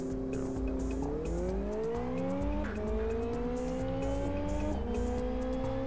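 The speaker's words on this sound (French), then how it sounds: "on va faire une course" Race car in the PC game Live for Speed, its engine note climbing steadily through the gears with brief dips at each shift, alongside a quieter repeating higher whine, continuous and up close without talk.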